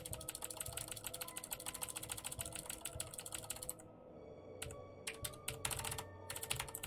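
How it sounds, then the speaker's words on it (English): A mechanical keyboard with Cherry MX Blue switches is typed on quickly and steadily, giving close, dense clicky keystrokes. It pauses briefly partway through, then resumes with scattered bursts of clicks. "I hope y'all like my Cherry MX Blues. My favorite cherry switches."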